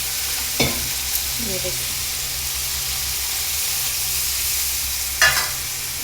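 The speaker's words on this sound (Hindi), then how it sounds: "ये मसाले जो मैं पीसी हुई थी ना इसको मैं कर लूँगी फ्राई।" Ground spice paste frying in a pan for a potato, brinjal and bari curry, giving a steady close sizzle with a couple of stirring scrapes and a brief voice near the start.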